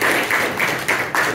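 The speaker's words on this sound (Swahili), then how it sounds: "Naomba mpige makofi." Members at a Sukuma group's monthly meeting in Katavi clapping in a short burst, four or five loud, evenly spaced claps close by.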